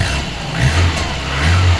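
A VAZ 2101 car engine revs up and down close by, a loud, steady rumble with rising throttle surges and no voices.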